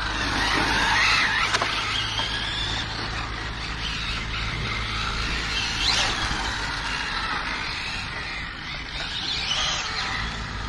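An Arrma Infraction 6S RC car slides and drifts under throttle, its motor whining steadily and loudly with scrabbling tire noise on a slippery surface, close by and continuous.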